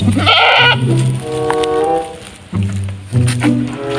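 An angry goat bleats loudly and close, several drawn-out wavering cries separated by short pauses.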